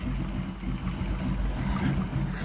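A 1932 Ford roadster hot rod engine idles roughly on IDF carburetors, a low uneven rumble that chugs and stumbles continuously, loud and close.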